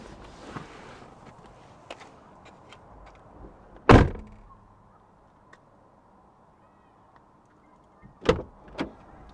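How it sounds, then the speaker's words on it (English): Dodge Charger Scat Pack car door being opened and shut: a sharp, loud thud of the door, a quiet stretch, then two closer-spaced clunks near the end, over faint background noise. "Just opening the door and closing it."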